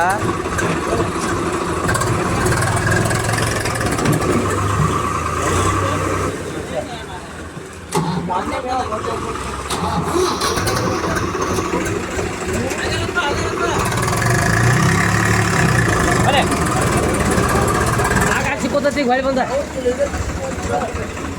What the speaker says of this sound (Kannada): ಬಂದೈತಲ್ಲ ಟ್ರ್ಯಾಕ್ಟರ್ ಜಗಾಕ